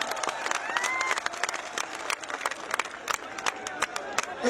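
A crowd at a live Punjabi music concert in Mansa claps in scattered, uneven bursts, with a voice speaking over the applause.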